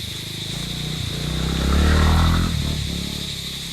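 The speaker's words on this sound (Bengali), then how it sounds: "ঝিঝি পোকার ডাক, একদম নির্ঝুম পরিবেশ" Crickets chirp in the Dowhill pine forest, a steady thin high-pitched drone throughout, while a deeper rumbling sound swells and fades in the middle.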